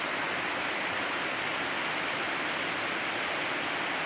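Salodik waterfall in Luwuk Utara, Banggai, Central Sulawesi, a constant dense roar of rushing, falling water, steady and loud throughout with no other sounds.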